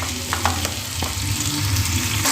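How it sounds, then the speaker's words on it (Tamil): Onions sauté in oil in a pan with a steady, dense sizzle, close up, broken by a few light knocks of stirring. "பச்சை வடை போக நம்ம சேர்த்துருந்த வெங்காயம் நல்லா வதங்கிக்கிட்டு இருக்குங்க."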